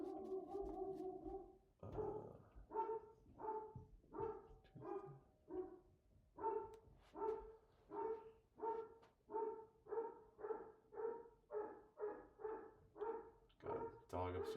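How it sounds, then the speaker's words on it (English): A dog barks over and over from upstairs in a house, a long steady run of evenly spaced woofs that carries clearly on its own, with no talking over it. "got a dog upstairs."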